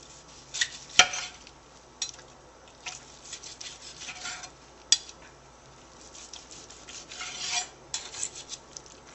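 A knife slicing through roast Thanksgiving turkey breast with skin on, several separate rasping cuts and scrapes against a board, close and fairly quiet, with near silence between strokes.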